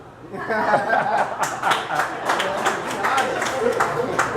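A comedy club audience breaks into scattered clapping mixed with chuckles and laughter, a lively crowd sound building after a brief quiet start and continuing at moderate loudness throughout.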